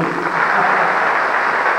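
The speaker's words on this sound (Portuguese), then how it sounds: "Então vamos dar uma salva de palmas para Jesus" A church congregation applauds in a dense, continuous wash of clapping, evenly loud and sustained throughout with no distinct individual claps standing out.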